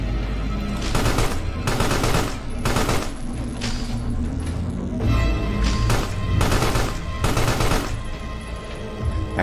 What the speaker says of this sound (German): Nicht auf das arme Monster schießen.